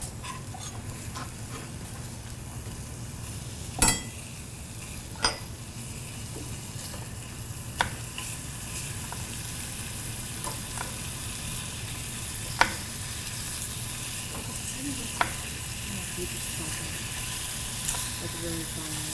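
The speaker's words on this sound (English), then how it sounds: "while Ramsey is cooking the bacon" Bacon sizzles steadily in a pan at moderate level, a constant frying hiss broken by a few sharp clicks and pops of spatter or utensil taps, with no voice over it.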